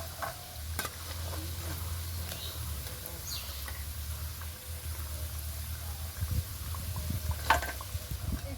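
Gaja sweets frying in hot oil for Rathayatra, a steady low bubbling sizzle with occasional clinks and scrapes as the pieces are stirred and lifted out with a slotted spoon.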